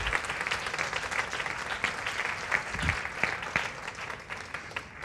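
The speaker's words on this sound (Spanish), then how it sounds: "Dele un aplauso de verdad" A church congregation claps together in a sustained round of applause, fairly quiet and distant, with a few sharper individual claps standing out and fading toward the end.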